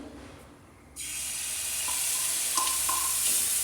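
Batter meets a hot tawa with a sudden loud hiss as it is spread slowly around the griddle. The sizzle starts abruptly after a quiet moment and holds steady, with faint scraping ticks underneath.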